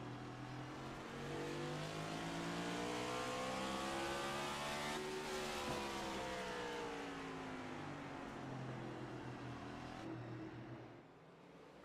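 Race car engines roar continuously in the iRacing sim at Martinsville, a steady dense drone with rising and falling pitch as cars accelerate and pass, fading slightly near the end.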